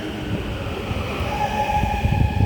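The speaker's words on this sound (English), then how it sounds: "We are finally getting on the train to go to the last station" A Los Angeles Metro B Line subway train rumbles steadily, with low wheel noise and a faint high whine rising as it moves, heard from inside the car.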